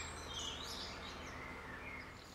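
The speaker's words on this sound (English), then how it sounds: "The sparrows are returning to Chris's farm." Sparrows chirp on a farm, faint, distant tweets over a soft, steady background hiss.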